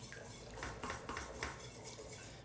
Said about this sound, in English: Remove or deglaze all those bits at the bottom of the pan.